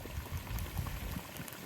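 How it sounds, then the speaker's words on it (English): Water at a rolling boil churns and bubbles steadily in a pot with marten traps soaking in it, melting off their wax, a close, continuous seething hiss with no voices. "that water's, she's a roaring boil"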